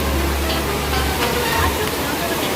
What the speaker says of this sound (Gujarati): અહીંયા આવી ગઈ છે નદી.